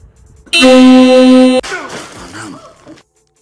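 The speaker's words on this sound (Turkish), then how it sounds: "Marin kornaları da tam gaz çalıştırıyor." Volvo FH540 truck air horns blare loud and sustained for about a second in a neighborhood, then cut off into a brief jumble of fainter chirps and noise.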